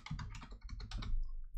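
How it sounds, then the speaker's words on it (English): Typing a password on a computer keyboard, a close quick run of about a dozen crisp clicking keystrokes with brief pauses and no voices. "Now we just have to type our password here"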